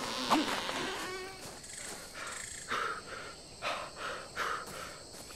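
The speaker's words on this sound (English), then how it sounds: "There's a bunch of fucking bees and shit come out of the fucking wood." Insects buzzing in the survival game Ark Survival Evolved, a faint droning hum broken by several short swelling bursts as bees fly close, with no talk.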